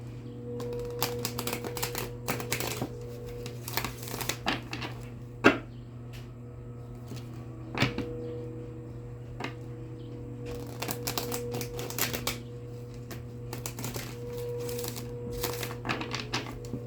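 Tarot cards riffle and shuffle in repeated bursts with short pauses between, crisp flicking clatter close up over a low steady hum, no talking.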